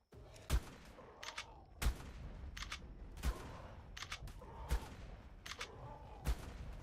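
Shotgun blasts fired at a Stegosaurus in the video game ARK Survival Evolved, Ragnarok map, five sharp reports spaced about every one and a half seconds, each followed by brief reload clatter.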